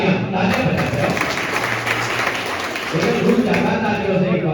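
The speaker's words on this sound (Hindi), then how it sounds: "जोरदार तालियां बजाते हैं" Loud audience applause at a public welcome ceremony in India, a sustained wash of many hands clapping with voices mixed in and the clapping swelling again near the end.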